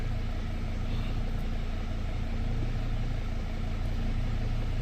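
Steady, loud diesel truck engine idling just after starting up, a constant low rumble with no change in pace throughout and no talking.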